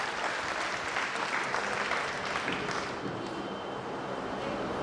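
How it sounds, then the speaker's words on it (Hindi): Enthusiastic applause from an audience at a motivational academy event welcoming a police DSP officer, a dense continuous clapping that stays loud, then thins slightly toward the end. "प्लीज जोरदार तालियां स्वागत के लिए"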